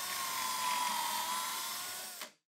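A power drill drives pocket hole screws into a cabinet top, giving a steady high-pitched whine that holds for about two seconds before cutting off abruptly.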